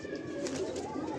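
Pigeons cooing softly at a pigeon-keeping spot, a low murmuring coo against a quiet background, with faint voices nearby.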